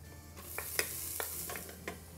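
Ginger, garlic and chopped shallots fry in hot oil in a multi-cooker with a soft, continuous sizzle, punctuated by a few sharp utensil clicks and scrapes.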